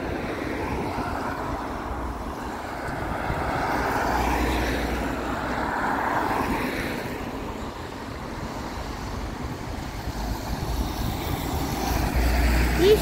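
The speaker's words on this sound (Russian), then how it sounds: "Вот 11 автобус." Number 11 bus rolling past outdoors, a broad low engine rumble and road roar swelling and fading over several seconds, steady traffic-like noise throughout with no speech.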